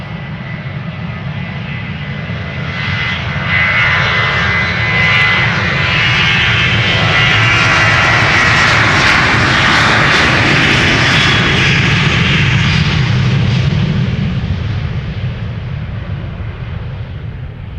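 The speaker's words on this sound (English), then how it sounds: "Just putting up right now over here on Polderbaan is KLM flight 1269 to Copenhagen. 737-800." A KLM Boeing 737-800 takes off from Schiphol's Polderbaan, jet engine roar swelling into a loud, broad, sustained rumble and hiss that peaks midway and then slowly fades as the aircraft climbs away.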